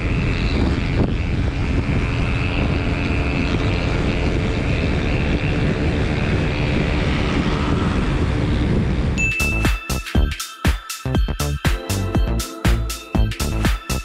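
A Honda Click 160 scooter engine runs hard at top speed with a steady roar and wind rush, then the sound shifts to choppy, rattling mechanical bursts.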